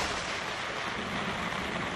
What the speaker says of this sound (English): A tropical storm suddenly erupts over Kuala Lumpur.